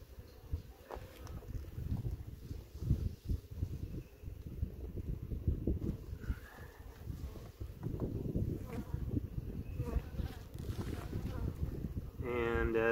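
Honeybees buzz steadily around an open double-deep hive while frames of honey and pollen are lifted, a dense low hum running throughout beneath intermittent speech.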